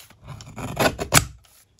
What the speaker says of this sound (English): I'm going to use this mini guillotine.